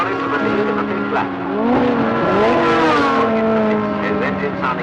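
Race car engine roaring during a 1960s motor race, loud passing engines with rising and falling pitch and tire squeal, with a commentator talking over it.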